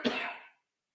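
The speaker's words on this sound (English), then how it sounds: "I'm going to cough." A single short, sharp cough close to the microphone, dying away quickly into silence.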